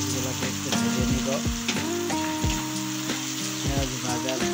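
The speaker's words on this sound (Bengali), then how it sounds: "পেঁয়াজগুলোকে একটু ভেজে নিব।" Chopped onions fry in hot oil left from frying eggplant for a fish and eggplant curry, making a steady close sizzle broken by repeated scraping and stirring clatters; tonal sounds ring faintly underneath.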